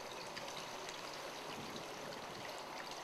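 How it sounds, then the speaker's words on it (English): Worcestershire sauce is poured over the tops of racks of BBQ ribs, a steady close trickling and splashing stream that runs unbroken for about three seconds with no talking. "Take a little bit of Worcestershire sauce right over the tops of the ribs."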